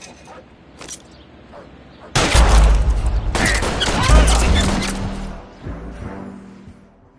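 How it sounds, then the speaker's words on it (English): A rapid burst of gunfire rings out in a street shootout during a police traffic stop in L.A. Noire, loud and close with dense overlapping shots and echoing booms that fade into scattered reports. "All units, shots fired."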